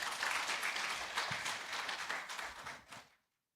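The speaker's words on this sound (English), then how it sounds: "And one round of applause to them," Applause from a workshop audience for the presenters, a broad crowd clapping that holds steady for about three seconds, then thins into a few last claps and stops abruptly.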